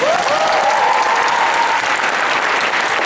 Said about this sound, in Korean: 모든 여러분들께 큰 박수 한번 보내주시니다